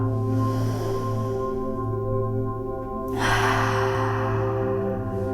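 A slow, audible exhale during a hatha yoga breathing exercise, a soft airy breath released over a steady background hum, with a louder breathy rush partway through.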